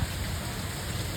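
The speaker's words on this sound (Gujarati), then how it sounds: "ભાઈ ભૂકા કાઢી નાખ્યા વરસાદ કેટલો આવ્યો" Heavy rain pours steadily outside a shop, a dense continuous hiss of broadband noise that holds even and loud for the whole moment with no voices.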